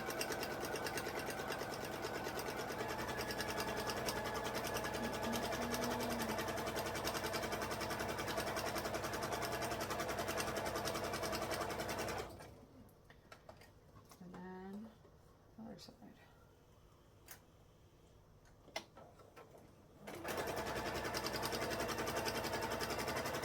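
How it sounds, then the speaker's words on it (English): A sewing machine top-stitching along the edge of a beginner purse, a steady close mechanical whir running for about twelve seconds, pausing for a stretch of quieter sounds and talk, then starting up again. "We're gonna do a top stitch right along the edge."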